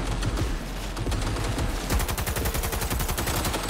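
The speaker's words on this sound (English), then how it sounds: "A light machine gun." Rapid, sustained bursts from a light machine gun in Cyberpunk 2077, loud and close, with a brief pause before an even faster continuous stream of shots.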